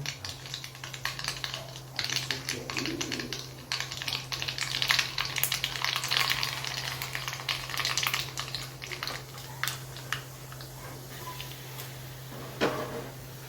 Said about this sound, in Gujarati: આના અંદર ગરમ આપણે વઘાર નાખી દીધું છે